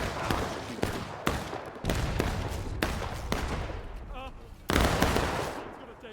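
Musket volleys crack out in War of Rights, a Civil War infantry game: several sharp, loud reports in quick succession through a wooded farmland map, with echoing rumble between shots.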